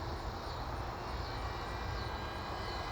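A Flywoo Explorer LR 4 V2 FPV drone flies at full throttle beside a highway, its propellers holding a steady, dense high-pitched whine and broadband roar without letting up for the whole stretch.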